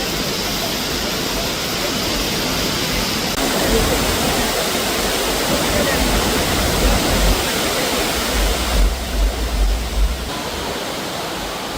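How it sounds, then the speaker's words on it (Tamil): Newly formed waterfalls in the hills of Kodaikanal give off a dense, continuous roar of rushing water that stays steady and fairly loud throughout, with a slightly heavier low rumble midway. "கொடைக்கானலில் ஆங்காங்கே திடீரென அருவிகள் உருவாக்கி கண்களுக்கு விருந்தளிக்கிறது"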